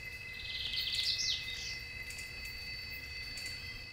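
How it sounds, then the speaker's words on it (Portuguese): Various birds sing at Lagoa Maior, a lagoon in Três Lagoas, Brazil. A quick burst of bright chirps rises and then fades over faint, steady outdoor background noise, with no speech. "quem escolhe visitá-la com certeza vai se deparar com o som de diversos pássaros"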